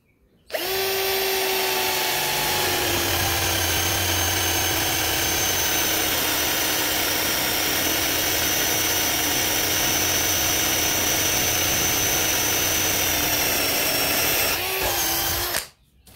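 A Dongcheng DCJZ1202i cordless drill with a 12 mm spade bit spins up and bores for about fifteen seconds, a loud, steady motor whine with a grinding edge, then cuts out abruptly.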